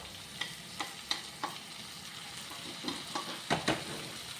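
Ghee rice with tomato for prawn biryani stirred in a hot pan, a spoon scraping in irregular strokes over a steady soft sizzle, close and moderately quiet with no talking.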